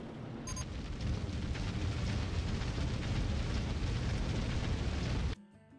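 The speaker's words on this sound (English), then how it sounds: "They just explode. The slightest touch of grass, they just all burst into flames." Roller Coaster Tycoon 3 coaster riders blow up in a long, loud rumbling explosion that roars steadily for about five seconds before cutting off abruptly into quieter game sound, with no talk over it.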